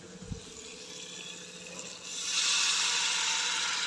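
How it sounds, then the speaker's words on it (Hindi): A little water pours into a hot cooking pan with tomatoes in Indian home cooking, the sizzle swelling into a loud, steady hiss after a quieter start. "अब मैं इसमें थोड़ा सा ना पानी डाल देता हूँ"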